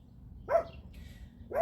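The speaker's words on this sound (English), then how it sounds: "Sorry about the dogs." Dogs bark outdoors at a distance, two sharp barks about a second apart over a low steady background rumble, with no one talking.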